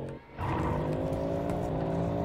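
A Lamborghini driving in the video game Vehicle Simulator gives a steady, droning engine hum that holds a fairly even pitch, moderately loud and with no talk over it.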